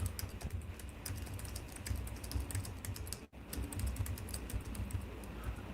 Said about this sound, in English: He's typing. I can hear him typing.